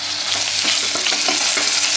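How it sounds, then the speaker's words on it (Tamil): Tomato goes into sautéing onions in a pan, a continuous bright sizzle with light scraping and stirring taps. "வெட்டி வச்ச ஒரு பாதி தக்காளியை நம்ம இதில் போட்டுக்கலாம்."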